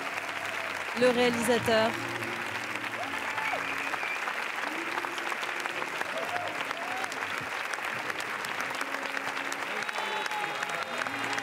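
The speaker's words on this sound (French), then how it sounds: "Et là, la salle applaudit" An audience in a Cannes festival theatre applauds in a sustained, dense wash of clapping that carries on steadily, while a commentator talks briefly over it and a few crowd shouts rise near the start.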